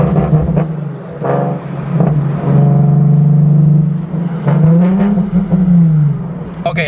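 A Nissan 370Z revs hard on two-step launch control, its loud exhaust droning and bouncing on the limiter with crackling pops over about seven seconds, close and loud.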